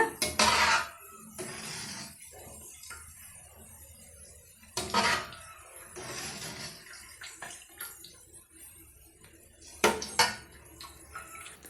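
A metal strainer scrapes and clinks against a pan while lifting fried boondi out for Tirupati laddu, with bursts of metallic clatter recurring every few seconds, close by and with no voices.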